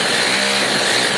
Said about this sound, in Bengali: এবারে সেটাকে দাগ মারার পর এটাকে আমরা কাটিং করে দিচ্ছি।